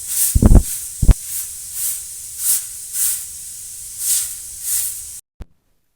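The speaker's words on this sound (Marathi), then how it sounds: "तुम्हाला आवाज येत असेल कुकरच्या शिट्ट्यांचा" Pressure cooker boiling potatoes, letting off a run of evenly spaced hissing steam bursts, about one every second, after two short knocks at the start; the hiss stops abruptly near the end.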